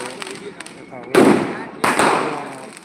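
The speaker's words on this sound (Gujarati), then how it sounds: "ફટાકડા ફોડીને આનંદ માણી રહ્યા છે" Diwali firecrackers burst twice, loud sharp cracks with lingering crackling tails, set off by children at night amid murmuring voices and faint distant pops.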